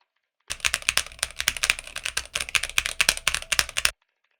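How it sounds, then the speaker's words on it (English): Steady, fast typing on a computer keyboard, a dense run of close, crisp key clicks lasting about three and a half seconds, with no voice over it. "I'm going to talk and type on this keyboard just to generate some noise."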